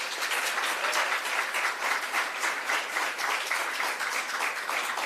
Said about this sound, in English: So I'd like everybody to please applaud them,